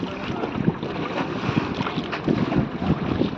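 A boat moves on water at Maithon Dam with a continuous low engine rumble, splashing and wind buffeting the microphone.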